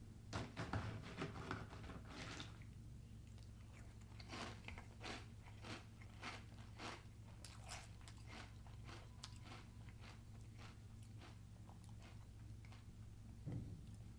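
Crisp bites and crunchy chewing of Eggo chocolate waffle cereal, a quiet close-up series of irregular crackly crunches spread over about fourteen seconds.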